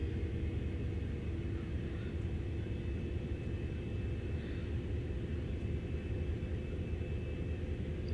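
Diesel locomotive in Train Sim World on the Northeast Corridor at Hell Gate Bridge pulling away, a steady loud low rumble with constant engine drone and no clear change across the clip.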